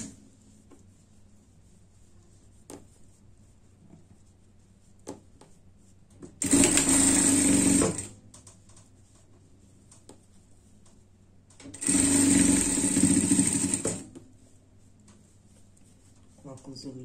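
A sewing machine stitches a seam on fabric for a frog pet costume in two loud bursts of steady mechanical whirring, each about two seconds long, separated by quiet room tone.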